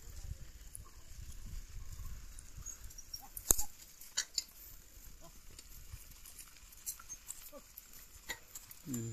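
Cows walking along a village road, heard from a bicycle during a solo ride, with faint hoof clops and rustling sounds scattered over low background noise, plus a few sharper knocks.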